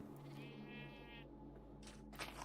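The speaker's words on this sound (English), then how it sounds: "Somebody dyed all the sheep pink." A Minecraft sheep bleats in a faint, wavering call for about a second, then goes quiet under low in-game background hum, with a couple of soft shuffling noises at the end.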